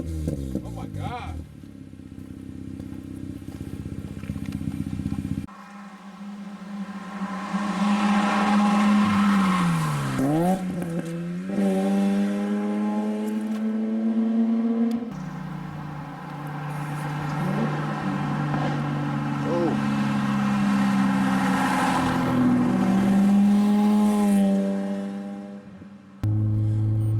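A Mazda RX-8 rotary engine revs up and down repeatedly, loud and close, with rising and falling sweeps between steady high idle stretches; people talk briefly around it.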